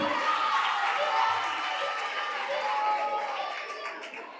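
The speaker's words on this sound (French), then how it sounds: "On applaudit pour lui" A school audience applauds at a quiz contest, a short burst of dense, steady clapping that tapers off slightly toward the end.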